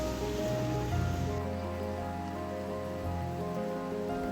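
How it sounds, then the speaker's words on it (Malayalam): Steady rain pours down onto surfaces around a garden fish pond, a dense, even hiss that stays constant throughout with no voices. "മഴയ്ക്ക് ഒരു കുറവുമില്ല."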